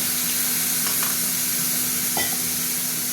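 Spice paste of ginger, garlic, chilli powder and turmeric sizzling steadily in a hot pan for a Bengali dhokar dalna, with a constant loud hiss and a few soft stirring scrapes.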